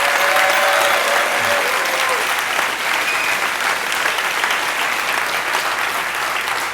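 An audience at a Philadelphia talk bursts into steady, loud applause for a local welfare rights group, continuous clapping with some crowd noise, heard alone and sustained throughout.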